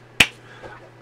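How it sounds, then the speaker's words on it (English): A single sharp hand clap from a recording, one bright crack near the start that decays quickly, then only faint background. "And then the clapping."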